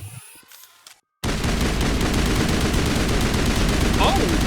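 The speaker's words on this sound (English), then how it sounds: "That should be a semi-auto rifle, right?" Semi-automatic rifle fire in Mass Effect: after a short quiet gap, a rapid, loud stream of closely spaced shots pounds continuously to the end of the clip.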